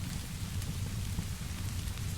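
Gentle rain falls as a soft, steady patter that continues without a break, with no voices.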